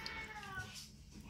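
A cat gives one short, fairly faint meow beside a Miaustore pet water fountain, heard close in a quiet indoor space.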